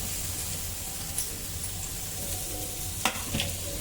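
Capsicum sizzling steadily in a hot pan as a veg frankie filling cooks, a dense continuous fry with a couple of brief stirring clicks near the end, no talk.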